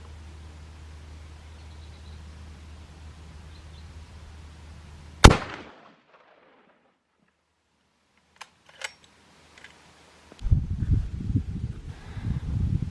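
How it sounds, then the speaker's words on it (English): A 505 Gibbs rifle fires a practice round: one loud, sharp report, then near silence with a few faint clicks before steady outdoor rumble returns. "let's fire 2 of those practice rounds, and I want you to pay specific attention to muzzle lift and then the recoil"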